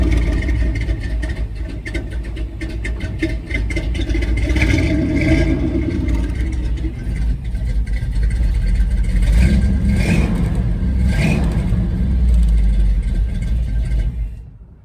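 A wrecker tow truck's engine, fed from a makeshift gallon-jug fuel supply, cranks, fires and keeps running close by with a loud, rough low rumble and mechanical clatter, rising with a couple of revs before cutting off.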